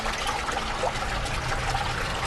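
Fresh, cold spring water trickling through rock channels at Petra in the Arabian desert, a steady close splashing flow that fills the whole stretch without pause.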